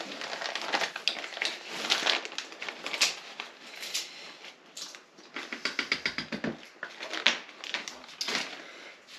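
Nuts being cracked while gingerbread cookie dough is prepared, giving repeated dry cracking and crunching snaps in irregular bursts throughout, fairly close and moderately loud, with no talking.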